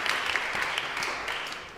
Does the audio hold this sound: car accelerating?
no